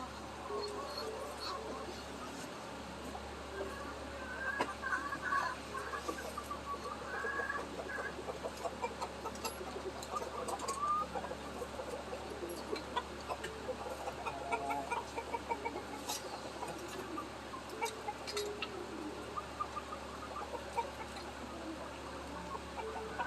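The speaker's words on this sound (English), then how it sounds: "right now these are our Bantams" Bantam chickens cluck and murmur softly throughout, scattered short calls over a low background hum, moderately distant and faint, in a muddy, slushy yard.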